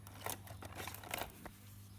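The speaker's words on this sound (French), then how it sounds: "Ciseaux." Scissors snip ribbon while finishing an accordion-style paper album, a few quick, close cuts in a loose cluster with a steady low hum behind.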